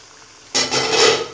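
Ground garlic and onion masala paste tipped into a hot cooking pan for green masala kofta, a sudden loud sizzling burst that spreads and holds steady after a quiet start, with no one speaking.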